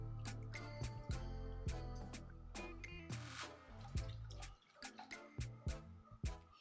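Water pouring and splashing into a bowl of dough for Hausa porridge, with a run of drips and plops, steady at first, then broken into separate splashes near the end.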